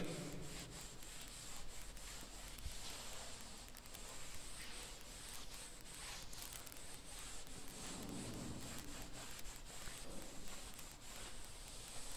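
Writing rubbed off a classroom board with a continuous scratchy rubbing that scrapes back and forth in steady strokes, fairly close and loud, with no talking.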